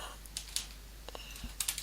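Keys clatter on a computer keyboard at close range: a few scattered clicks, then a quick burst of strokes toward the end. No one speaks.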